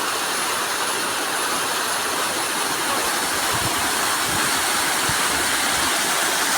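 A waterfall in misty hill country on the way to Kambam Theni pours with a steady, loud, full-bodied rush of hissing water that stays unbroken from start to finish, with no voices.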